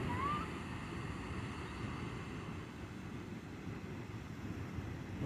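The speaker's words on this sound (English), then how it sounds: "Let y'all listen to the water" Flowing water in a community garden makes a steady, even wash of rushing noise that holds at a constant level throughout, with a faint outdoor hum and no voices.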